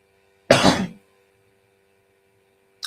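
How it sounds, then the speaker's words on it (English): A single short, harsh cough close to the microphone, followed by silence. "I'm having some little cough"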